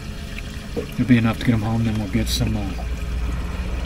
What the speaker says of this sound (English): I'm going to leave the aerator on here in the drive home.